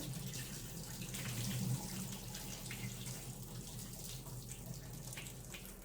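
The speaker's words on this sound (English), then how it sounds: "we'll put our hand here at the end one more time and drain out this extra water" Extra water drains out of a salad bowl held against a hand, giving a soft, faint, continuous trickle and splash that runs steadily for several seconds.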